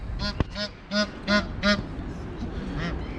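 A duck at Budapest Zoo quacks about five times in quick succession, close and clear, then quieter calls trail off against faint outdoor ambience.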